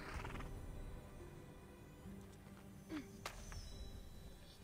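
A saddled war horse in Immortals Fenyx Rising gives a single whinny-like call, followed by a few clip-clop and rustling sounds over a low game ambience.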